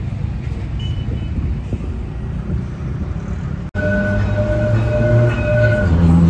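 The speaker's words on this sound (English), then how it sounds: "So the metro has arrived" A Port Louis metro train pulls into the station, loud and close, with a steady rolling rumble, a sharp break midway, then brake squeal and rising mechanical whine as it slows, with no talk.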